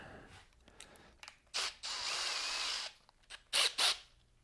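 A power drill whirs in several short bursts and one longer run, with brief pauses and clicks between them, at a woodturning lathe session.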